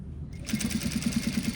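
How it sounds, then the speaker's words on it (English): A sewing machine stitches through several layers of fabric, starting up after a short pause and running in a steady, close, rapid rhythmic chatter. "I definitely have to change the tension on this machine because I'm going through like way more layers of fabric now"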